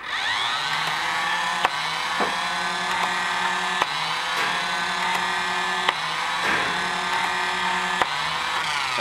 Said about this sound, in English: we're going to fire 3 or 4 shots, and I'm holding this down, that way you can get full rev on the motors